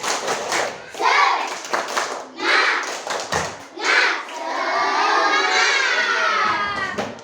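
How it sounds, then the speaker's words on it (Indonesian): A classroom of students performs a rhythmic spirit clap chant, bursts of clapping in patterned groups mixed with children's shouted chanting, ending in a sustained cheer; loud and close. "Tepuk semangatnya dulu supaya lebih semangat."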